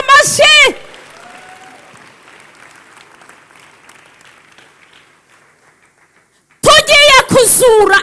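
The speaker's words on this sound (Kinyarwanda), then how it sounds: "Dukomere Imana yacu amashyi." A church congregation breaks into loud applause that fades away over several seconds, with a preacher's voice speaking before and after it.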